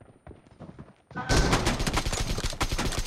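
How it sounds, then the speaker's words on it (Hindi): Gunfire in the battle royale video game PUBG: after a quiet, muffled opening, a loud burst of rapid shots erupts and keeps rattling in dense volleys to the end, with no speech over it. "फायरिंग चालू हो गई"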